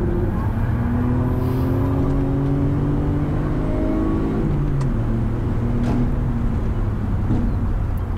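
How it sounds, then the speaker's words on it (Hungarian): A sports car's engine revs hard as it drives fast on a track, its loud, continuous drone climbing in pitch through the gears and dipping at each shift, with no talk. "És végre egy autó, ami hallatszik, ha messze távolba is."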